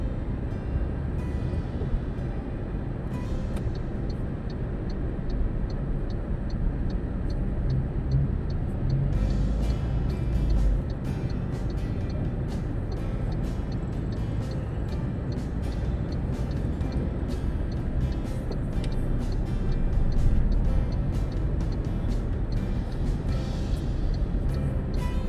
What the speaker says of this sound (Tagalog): Grabe ng traffic.